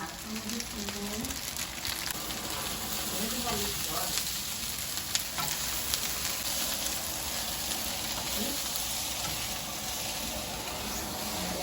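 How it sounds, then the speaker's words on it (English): Jamaican-style shrimp fried rice with vegetables sizzling in a pan as it is stirred until dry, a steady close hiss with occasional soft scrapes and faint speech in the background. "I have to stir it until it's dried out."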